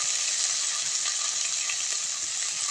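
Whole spices and masala frying together in a pan with salt and turmeric for an aloo dum dish, a steady close hiss and sizzle that runs continuously with no talking.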